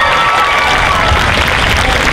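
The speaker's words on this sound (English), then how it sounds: "Everybody, round of applause." Loud, dense applause and cheering from a festival crowd at a cosplay contest at the Orlando Japan Festival, steady and close throughout with shouts mixed into the clapping.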